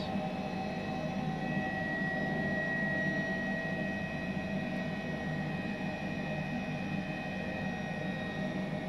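A simulated H135 helicopter in Microsoft Flight Simulator 2020 drones with a steady, unbroken whine and rotor roar, holding even in level from start to finish.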